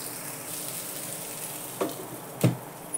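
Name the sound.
stuffed okra steaming in a covered pan on low heat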